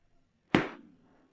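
One sharp crack rings out as the hard salt crust of a Hakka-style salt-baked chicken is struck and split open, fading quickly into quiet.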